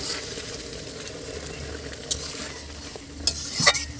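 A taro curry fries in a pan with a soft continuous sizzle, overlaid by scraping stirs and a few sharp metallic clinks toward the end as water goes in.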